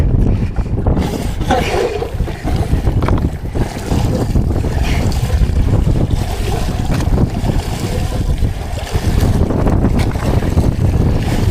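Rough sea waves slapping around a small fishing boat at night, with continuous loud wash and wind buffeting the microphone, close and unbroken throughout.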